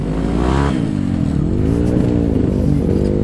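A Honda Beat scooter fitted with trail tires revs hard on a dusty off-road trail in Garut, its engine note rising and falling steadily, loud and close throughout.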